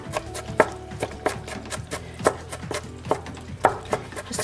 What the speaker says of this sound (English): all I'm doing is just cutting them into slices and then finally chopping them the other way around.